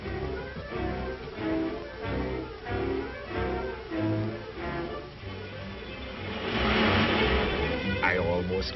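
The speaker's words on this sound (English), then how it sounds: "Here comes a car." A car drives past on a road, with engine noise swelling to a broad rush near the end under a voice talking throughout.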